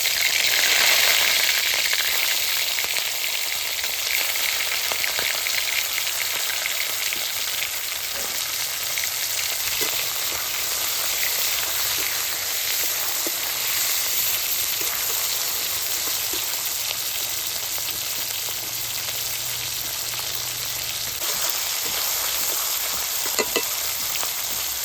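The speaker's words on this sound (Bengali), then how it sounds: "প্রথমে মাছের মাথাগুলো আমি ভেজে নেব।" Fish heads fry in hot mustard oil with turmeric, producing a continuous moderate sizzle and spatter, like light rain, that runs alone throughout with a few faint utensil touches.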